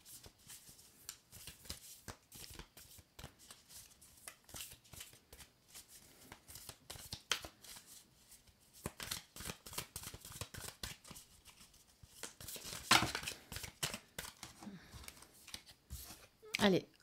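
Oracle cards shuffled by hand, close and quiet, with quick papery riffles and slaps coming in irregular bursts that grow busier toward the end.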